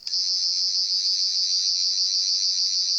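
A Thirteenth Doctor sonic screwdriver toy by Character Options gives a high, steady electronic whir, humming continuously with a slight pulsing wobble, close and fairly loud, with a faint click at the start.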